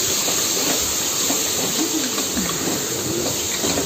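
Prawns frying in a pan for biryani, a steady, loud sizzling hiss that stays even and unbroken from start to finish, with no talking.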